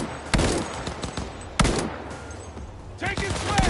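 Repeated gunfire bursts from the video game Cyberpunk 2077, sharp shots at irregular intervals mixed with game effects and chatter in the background.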